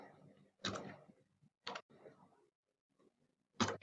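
A few sharp clacks from an oddly behaving computer keyboard during a mapping-software editing session, struck at irregular intervals with quiet pauses and faint murmuring in between.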